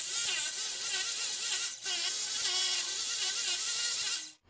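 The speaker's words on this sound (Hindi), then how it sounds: "6 mm के ड्रिल बिट से इसको होल करेंगे।" Power drill with a 6 mm bit boring a hole for a toilet and cistern installation in a bathroom, a loud high-pitched whining spin that briefly dips mid-way, then resumes and stops.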